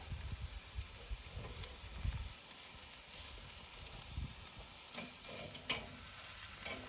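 Beef short ribs seasoned with a pepper mix sear in olive oil as they are turned, giving a steady close sizzle and hiss with scattered scraping and clatter from the turning, and no talking.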